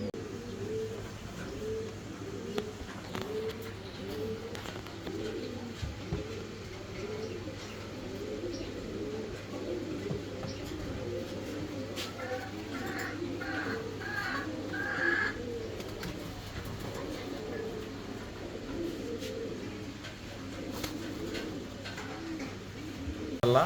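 Fancy pigeons coo continuously, a dense overlapping chorus of soft, rolling low coos from a flock close by, with a few brief higher chirps partway through and no talking.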